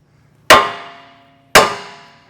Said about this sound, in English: you're gonna hit right here on the lower control arm. That's gonna free up this, this lower ball joint right here.